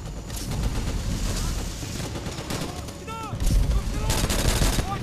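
Rapid bursts of machine gun fire from a German MG nest in a trench battle in Call of Duty: World at War, mixed with scattered rifle shots and battle noise, loud and close throughout.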